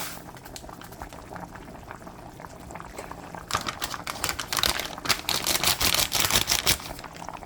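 A pot of wedding soup broth boils at a steady roll, with continuous bubbling and popping that grows louder and busier partway through.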